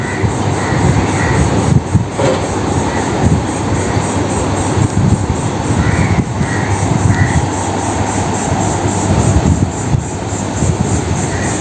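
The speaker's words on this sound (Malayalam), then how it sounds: "അതാ വന്ദേ ഭാരത് പോണു വളരെ സ്പീഡിലാണ്" The Vande Bharat express rushes past nearby at high speed, a loud continuous rumble of wheels and rail noise with rhythmic clatter and brief whining tones, heard from the roadside.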